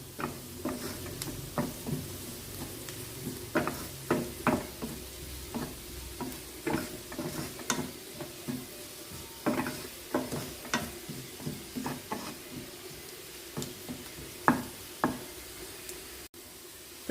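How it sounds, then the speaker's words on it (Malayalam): A garam masala filling for bread and egg snacks is stirred and frying in a pan, with steady soft sizzling and repeated spoon taps and scrapes in an uneven rhythm, close and clear with no talking. "ഇത്രയും ഇട്ട് നന്നായി ഒന്ന് ഇളക്കി കൊടുക്കാം"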